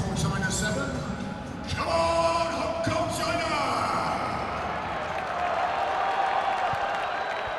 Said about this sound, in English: Lovely to hear the crowd still behind their Hong Kong hometown favourites, Hong Kong.